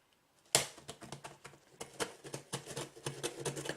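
A parcel being opened up close: a sharp rip, then a run of brisk crinkling, tearing and tapping handling noises in an irregular, busy rhythm, with no one talking.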